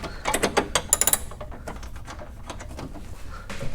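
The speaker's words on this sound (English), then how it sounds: "take our 10mm and work on getting all 6 bolts out" A ratchet with a 10mm socket loosening front bumper bolts on a Hummer H3, giving rapid clicking bursts early on, then quieter intermittent ratcheting, close up.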